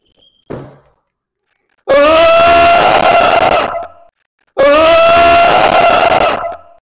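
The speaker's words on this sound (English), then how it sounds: "I'm going to go in the bathroom and do the screaming prank" A person screams loudly in a bathroom as a prank, two long sustained shrieks with a short pause between them, preceded by a brief thump.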